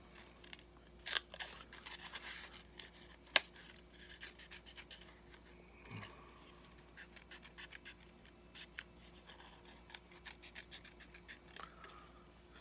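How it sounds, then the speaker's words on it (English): Scissors snip through paper while a star shape is cut out for a scrapbook layout, giving a quiet, close series of irregular crisp cuts and rustles with a few sharper clicks. "we're going to cut out our other star"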